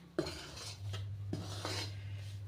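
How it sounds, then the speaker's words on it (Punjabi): A spoon scrapes and rubs through thick besan barfi mixture in a pan in a few strokes. A steady low hum runs underneath the close, rasping stirring sounds. "ਇਹਨੂੰ ਲਗਾਤਾਰ ਹਲਾਉਂਦੇ ਰਹਿਣਾ"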